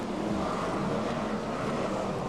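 BriSCA Formula 1 stock cars race away into the first lap at Stoke, a steady, dense roar of many engines blending into one continuous wash of noise.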